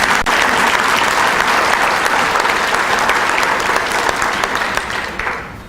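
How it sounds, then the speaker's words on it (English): An audience applauds at a chamber of commerce breakfast, with steady, dense clapping that holds for several seconds and then starts to thin out near the end. "Let's have a round of applause for that."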